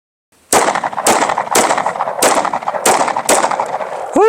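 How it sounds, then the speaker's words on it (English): Six loud, evenly spaced gunshots fired into a soft 3A body armor panel, each a sharp blast with a brief ringing tail, heard close and alone. "We're gonna go ahead, load up 10 rounds, and just go straight center mass."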